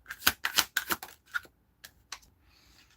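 Tarot cards are shuffled by hand in a run of crisp, riffling bursts, several quick slaps close to the listener with short gaps between, tapering into softer rustles.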